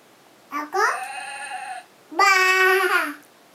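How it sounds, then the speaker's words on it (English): Sheep bleating in an animal-sound identification game, heard as two close, clear wavering bleats separated by a short pause, with little else around them. "Sheep. Sheep."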